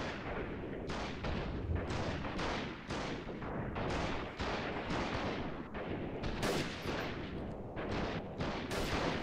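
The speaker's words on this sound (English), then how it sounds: "I think they just threw a freaking big ass grenade somewhere." Explosions and gunfire in a guerrilla-warfare shooter video game: a dense run of sharp, booming bursts and blasts, fairly quiet overall, repeating irregularly with no speech.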